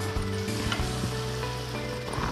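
Onions, curry leaves and mint frying in hot oil in a pan for Telugu country chicken curry, a steady close crackling sizzle with occasional stirring clatter, no voices.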